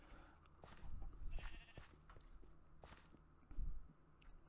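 Sheep bleat in a farm-themed video game, several short bleats scattered over a quiet backdrop along with soft squishy footstep-like thumps, fairly faint and without any talking.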